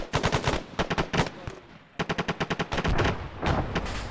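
Machine gun fire in ArmA 3: close, loud bursts of rapid shots with a short pause, then a crisp evenly spaced string of rounds followed by a denser final burst, no talking.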